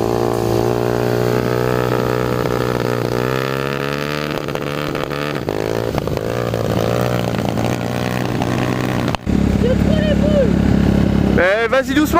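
Motorcycle engine revving and pulling away on a ride, rising harmonic whine sweeping upward, loud and close, with people talking over it and a gusty burst of wind near the end.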